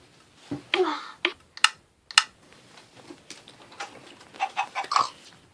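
Scattered clucks and squawks of chickens come in short bursts amid clicking and rustling, fairly close, with quiet gaps between calls.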